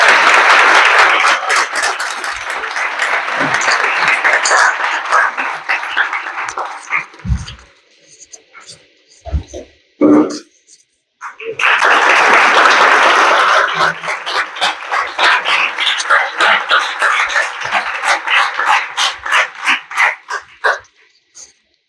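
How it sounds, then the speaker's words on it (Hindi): An audience welcomes a speaker with loud applause, dense clapping that fades out, a few thumps and claps in a brief lull, then swells again into vigorous, rhythmic clapping. "जोरदार तालियों से स्वागत करें"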